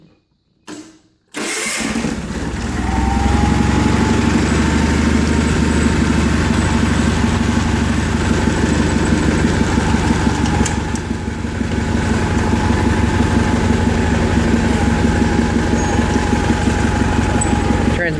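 A John Deere 316 lawn tractor's engine cranks briefly, then catches and settles into a loud, steady idle close by, running on with a slight dip partway through.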